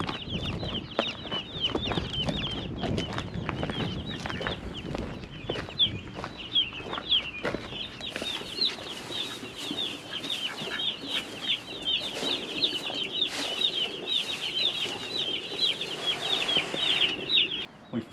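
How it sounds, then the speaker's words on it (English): Many baby meat chicks peep constantly in a high-pitched chorus, close by, with soft rustling and fluttering underneath. "We finally have our new baby chicks, our meat chickens."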